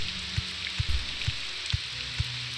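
Steady rain in the video game Morrowind, a dense broadband hiss pattering continuously, with a few soft low thumps scattered through it; no voices.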